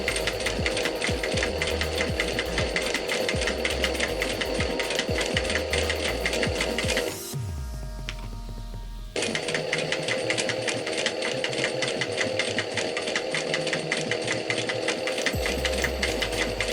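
A sewing machine set to a 4.5 stitch length runs fast and continuously through fabric layered with foam stabilizer, pausing once for a couple of seconds before resuming at the same steady, loud rhythm.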